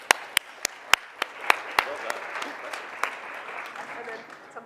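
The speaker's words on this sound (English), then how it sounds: "Let's give them a round of applause." Applause for judges at a sustainability event: a few sharp, loud claps near the start that thin into softer scattered clapping and crowd murmur, with voices and chatter underneath.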